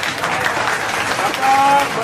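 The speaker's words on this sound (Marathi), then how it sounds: "अतिशय योग्य उत्तर आहे, टाळ्या होऊन जाऊ द्या" A live audience at an MPSC quiz show in Pune claps for a correct answer, a dense, loud, continuous round of applause filling the room.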